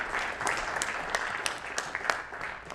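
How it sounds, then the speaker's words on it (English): Audience applause for a group of students at a leadership summit, a steady crowd of clapping hands sustained for a few seconds with sharper individual claps standing out. "let's give them a round of applause."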